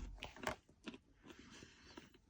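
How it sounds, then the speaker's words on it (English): Someone chewing a raw carrot, with several crunchy bites and chews close to the mic in quick irregular succession, fairly quiet overall. "chewing on a carrot"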